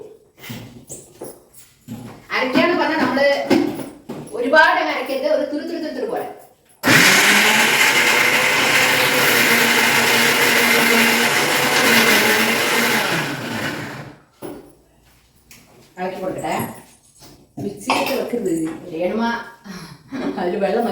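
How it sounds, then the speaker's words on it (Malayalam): A mixer grinder grinds masala for a Kerala potato dish, a loud, steady whirring roar that runs for about seven seconds between stretches of someone talking. "ഇതൊന്ന് അരച്ചെടുക്കാം നമുക്ക്"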